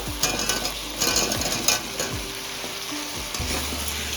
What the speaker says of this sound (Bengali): দিয়ে এটাকে ভালোভাবে একটু আরও নাড়ি চাড়িয়ে কষাবো